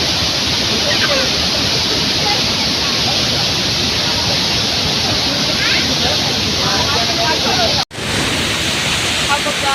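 Small waterfall at Thoseghar near Satara, water falling steadily in a broad, continuous loud rush with no break, close by and alone until a brief dropout near the end.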